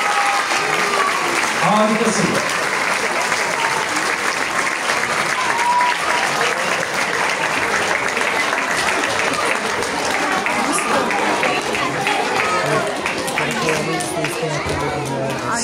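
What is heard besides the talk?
audience applause for the chess tournament champion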